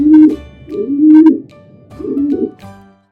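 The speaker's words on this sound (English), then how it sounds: "Pigeon." A pigeon coos three times in low, rolling phrases, clear and close, over a soft tonal backing.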